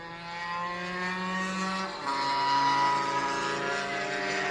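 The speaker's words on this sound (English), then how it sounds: "A little bit of a blip of the throttle there from John the Greek" A racing scooter engine at Anglesey during a Super Scooters race whines steadily at a distance, with a brief throttle blip lifting the tone partway through.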